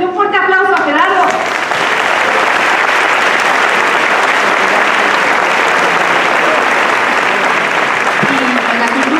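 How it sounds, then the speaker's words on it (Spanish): Loud, sustained audience applause at a music and dance festival in Mexico, a steady wash of clapping from a large crowd that begins right after a brief stretch of talk. "¡Démosle un fuerte aplauso a Gerardo!"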